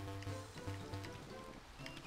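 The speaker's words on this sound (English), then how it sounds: "Well, apparently this vegetable summons rain." Steady rain falling inside a Pokemon Infinity video game, a soft continuous patter heard alone at low level, with no talk over it.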